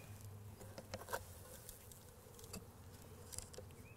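A steady, low hum of many buzzing honeybees fills the background, with occasional light taps and rustles close by.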